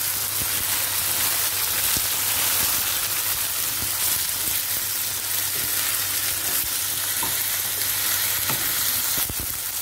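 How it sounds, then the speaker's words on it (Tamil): Okra and tomato fry steadily in a pan, a dense, continuous sizzle with crackling pops holding at an even level throughout, with no talk over it. "இப்போ நம்ம போட்ட வெண்டைக்காய் இந்த அளவுக்கு வதங்கிடுச்சு"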